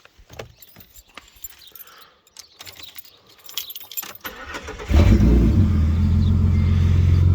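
A Toyota Supra mk3 fitted with a 1.5JZ engine is started after some clinking and jangling of keys, cranking over and catching into a loud, steady, rumbling idle close by.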